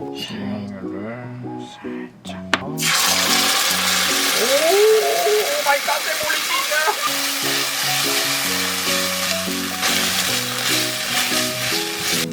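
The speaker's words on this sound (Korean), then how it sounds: "오징어 볶음에 밥 볶아서?" Rice stir-fried into leftover spicy squid stir-fry in a pan, a loud continuous sizzle and frying crackle with scraping stirs, under steady background music after a short quieter lead-in.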